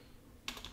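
Quick burst of typing on a computer keyboard while entering a name, a short run of close, crisp key clicks after a brief quiet moment.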